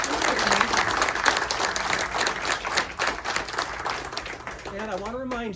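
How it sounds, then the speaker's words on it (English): Audience at a college mathematics and card magic talk applauds steadily in a dense, sustained burst of clapping; a voice starts speaking over it near the end. "Please give another round of applause for our speakers, Dr. Noquez and Tori."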